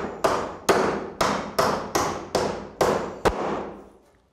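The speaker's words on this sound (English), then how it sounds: "I can now go back and nail the intermittent" Eight sharp hammer blows nailing timber roof battens onto rafters, evenly spaced and close, each strike ringing briefly before the next, the last one coming quicker.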